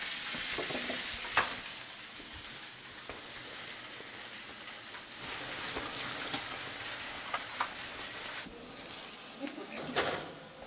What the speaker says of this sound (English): I'm just emulsifying the butter into the sauce and thickening up the sauce.